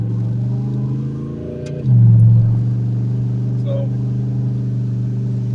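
Turbocharged 351W Ford Fox Body V8 pulling under about 7 pounds of boost, a loud steady engine drone that swells sharply partway through, with someone talking over it.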